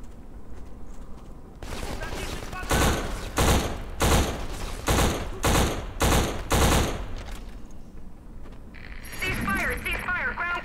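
Video game gunfire crackles in a string of loud, evenly spaced bursts, with steady background noise around them and voices talking before and after.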